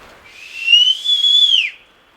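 A person whistles a single rising, sustained tone, loud and close, lasting over a second, to catch the attention of a big grizzly bear in the wild.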